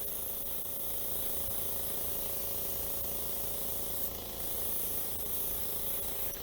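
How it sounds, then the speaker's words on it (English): An airbrush sprays thinned paint at low pressure, a steady soft hiss heard up close. It runs continuously with slight swells in level and no voices. "I use low pressure on the airbrush because I don't want massive overspray"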